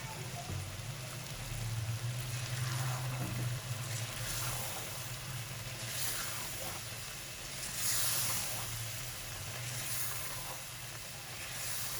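Chicken mince with spinach frying in a pan just after yogurt goes in, a steady broad hiss and sizzle lasting throughout, close and even with slight swells.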